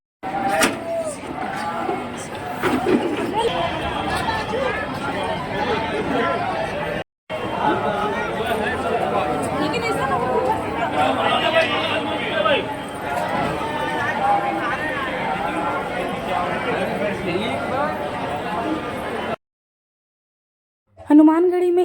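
A dense crowd at Hanumangarhi temple in Ayodhya makes a continuous babble of many voices close around, with traffic noise mixed in. It runs steadily and cuts out briefly near the middle and again near the end.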